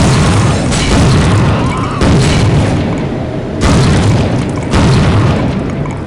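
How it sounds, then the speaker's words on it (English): Four heavy, booming blasts from a B-42 Berserker 12-gauge shotgun in a first-person shooter game ring out at uneven intervals, each with a long rumbling tail over constant noisy action. "The B-42 Berserker 12-gauge shotgun may sound over the top"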